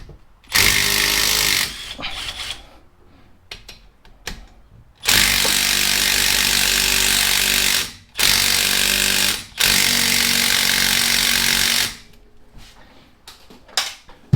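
An impact gun hammers loose 14 mm brake caliper bolts on a 2013 Toyota Highlander, firing in three long, loud rattling bursts of a few seconds each, with short gaps and small clanks of tool handling between them.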